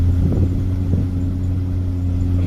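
Previously flooded Corvette engine pulling lightly on a test drive, a loud low steady rumble with a constant deep hum and a couple of soft bumps in the tone.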